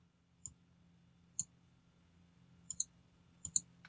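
A computer mouse clicks sharply and close in a quiet room, first as single clicks spaced apart, then as quick double clicks, with a faint low hum underneath.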